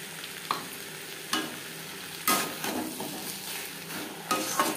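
Cauliflower stems and papaya frying in a pan, a steady close sizzle broken by several scraping stirs and light clinks of a utensil against the pan, with no talking.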